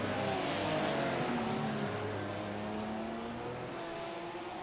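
GT3 race cars accelerate around Okayama in a sim racing game, a continuous, moderately loud engine drone with steady revving and layered engine tones, without voices.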